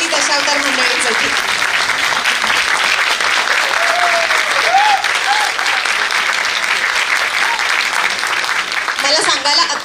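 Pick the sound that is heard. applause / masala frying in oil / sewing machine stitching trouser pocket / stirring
applause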